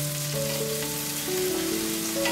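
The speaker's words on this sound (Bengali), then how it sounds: "একটা বড় সাইজের কুচি করে কেটে নেওয়া পেঁয়াজ দিয়ে দেব আর হালকা বাদামি রং হওয়া পর্যন্ত" Chopped onion frying in a pan with ginger, giving a steady, close sizzle that holds even and unbroken throughout, with no talk over it.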